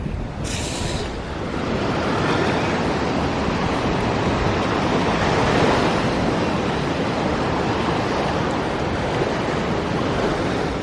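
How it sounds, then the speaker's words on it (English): Surf breaks continuously on Kalacha beach in North Goa, a loud, broad, steady wash of waves with wind buffeting the microphone; a brief sharper hiss opens it, then the roar holds alone. "So here at Kalacha beach, you don't only get a beach, you get this river lake here."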